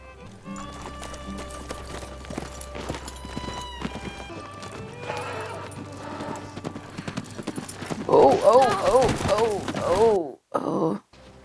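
On a Western ranch drama, horse hooves clip-clop in a steady, rhythmic gait beneath scattered talk, then a loud horse whinnies and groans as the action picks up near the end.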